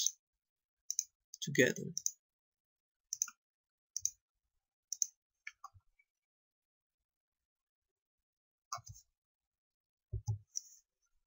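Mouse clicks while modeling an arch bridge in structural software: sharp, isolated clicks scattered across the stretch, with a brief low voice in places.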